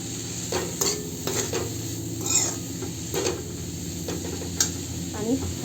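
Spring onion and potato vegetable stirred in a pan with a spoon: soft sizzling runs throughout, broken by repeated scraping and tapping strokes against the metal, close and steady.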